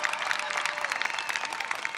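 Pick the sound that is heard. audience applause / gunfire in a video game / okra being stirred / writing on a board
audience applause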